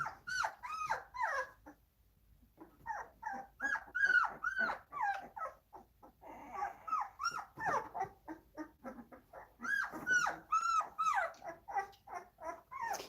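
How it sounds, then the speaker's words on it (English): Newborn puppies whimpering and crying in a litter, a near, continuous stream of high, rising and falling squeals and whines with short gaps, with no talk over them. "They get away from the others and then they start crying because they're lost."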